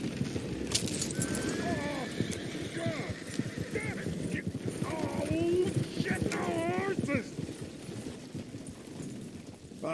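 Horse hooves clip-clop in the video game Red Dead Redemption 2, a continuous loose rhythm under steady talk, with a horse whinnying and other animal calls mixed in.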